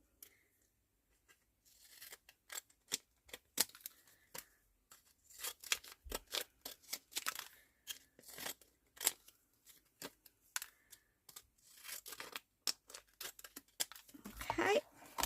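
Scissors cutting around a faux vintage postcard, quiet close snips in irregular bursts with pauses between them, growing busier toward the end, no talk.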